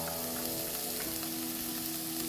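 Onion frying with ginger and garlic gives off a dense, continuous sizzle, loud and close, with faint stirring scrapes underneath and no talking.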